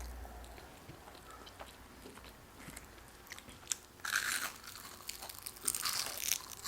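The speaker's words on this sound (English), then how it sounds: "The crunch is insane." Crisp crunching bites into a fast-food onion ring from Dairy Queen, close and fairly quiet, with bursts of loud crackle toward the end and chewing between.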